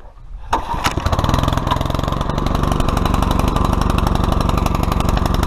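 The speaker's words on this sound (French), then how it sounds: "j'espère que le motoculteur va partir, normalement il démarre assez bien" A rototiller engine catches at once after a short pull and settles into a loud, steady, rapid chugging idle that carries on to the end, close by, with no voices.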